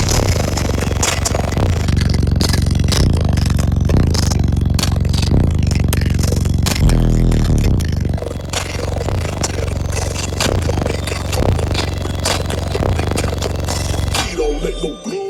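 A Sundown 7500s-driven car audio subwoofer pounds out heavy, sustained low bass around 26 hertz, rattling and buzzing the car's panels loudly and continuously, with faint talk underneath.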